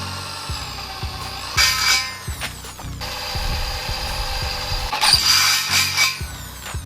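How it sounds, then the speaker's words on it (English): A power drill bores holes through a 3 mm metal bar, whining loudly and steadily at close range, with brief jumps in pitch where the bit bites and some mechanical clicking. "Now we're gonna make 2 holes on opposite side of this bar."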